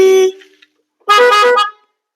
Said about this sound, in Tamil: நம்ம மாட்டின எக்ஸ்ட்ரா ஆரன் தான் சவுண்டு நல்லாயிருக்கு.